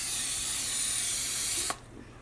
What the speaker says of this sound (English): I recommend olive oil spray